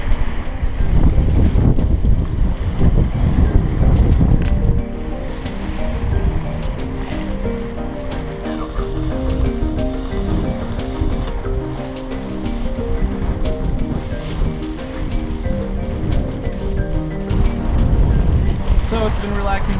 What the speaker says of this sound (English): Great to be out sailing.